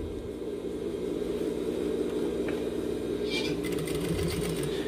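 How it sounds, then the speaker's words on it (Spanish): A sewing machine stitches a jeans zipper with a steady, continuous close whir, with someone talking over it. "Y vamos cosiendo la primera parte hasta la mitad."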